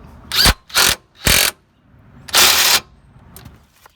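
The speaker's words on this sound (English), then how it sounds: "Okay, this is a 21 millimeter deep well. And I'm going to go ahead and tighten it up." A 21 mm deep-well socket tightens a tie rod nut on a 1998 Chevy Cavalier, heard as four loud, close mechanical bursts of a few tenths of a second each, the last one longer, with short pauses between and no talking.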